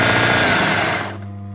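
A sewing machine embroiders a caftan, running loud and steady at close range, then slowing and winding down in the final half second.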